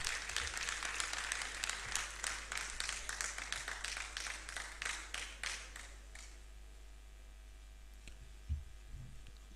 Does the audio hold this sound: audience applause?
yes